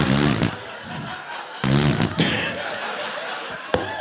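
Fart sounds from a novelty fart punch on a live talk show stage, two loud bursts each followed by audience laughter and chuckling.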